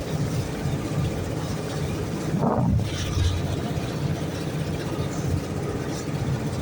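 A ship near Sablayan churning up sand and mud, heard close as a continuous rough rumble and wash of water mixed with wind buffeting on the microphone, with one brief louder surge midway.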